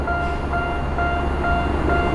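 A railway crossing bell at a Japanese subway line level crossing rings repeatedly at a steady pulse, clear tones cutting over a low rumbling rail background.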